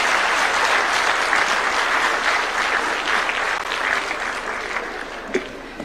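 Sustained applause from a large audience at an investment conference in Murang'a, steady and loud throughout with a few sharp claps standing out near the end.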